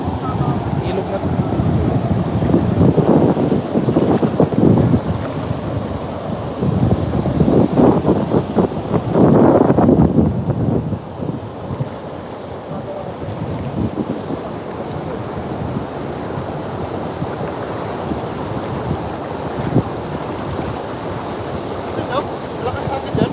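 Strong wind gusts roar by a wide river while carp fishing, a broad rumbling blast that swells and eases, loudest in the first ten seconds, with voices talking under it.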